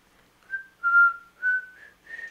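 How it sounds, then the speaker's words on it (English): A person whistles a short, soft, clear tune alone, four or five sustained notes rising and falling in a quiet room during a lullaby livestream. "I can whistle."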